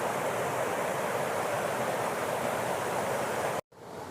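Water rushing out through the opened gates of Malampuzha dam makes a loud, steady broadband roar that continues unbroken for several seconds, then cuts out briefly before resuming.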